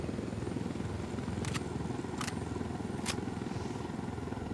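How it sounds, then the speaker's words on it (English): Helicopter in the video game Ghost Recon Wildlands, a steady whirring engine and rotor drone at moderate level, broken by three short sharp clicks. "Get in the helicopter"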